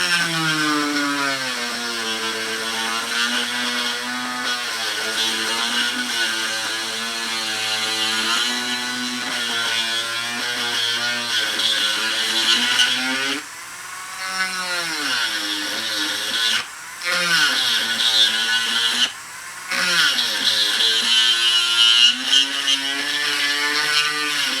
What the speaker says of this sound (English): just turn the Dremel on